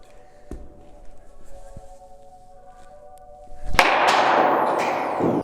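A sharp knock near the start as a baseball bat hits a ball off a tee in batting practice, then a loud, broadband burst that sustains for about two seconds, more like a rush of noise than a single bat crack.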